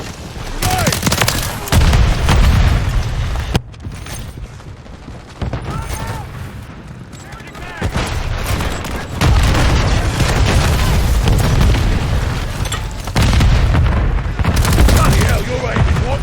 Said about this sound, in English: Semtex! Grenade! Take cover!